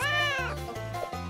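A kitten gives one drawn-out, high, wavering meow and then a shorter call. A steady, pulsing musical beat runs underneath.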